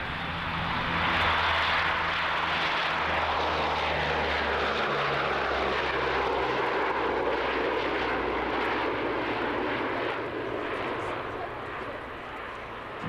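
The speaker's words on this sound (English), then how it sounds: "Lancaster flanked by the Hurricane and Spitfire to right. That sound, I had to go really quiet so you could hear it." Avro Lancaster bomber flying past flanked by a Hurricane and a Spitfire, a loud, steady droning roar of piston propeller engines that fills the whole stretch and fades slightly at the end.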